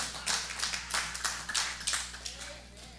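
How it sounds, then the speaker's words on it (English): A church congregation at a revival service claps hands, with a scattered rhythm of sharp claps rising in bursts and fading toward the end, and faint voices underneath. "Just go ahead and clap your hands, okay?"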